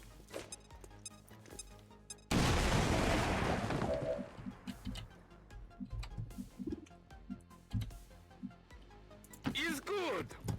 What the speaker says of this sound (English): Live grenade.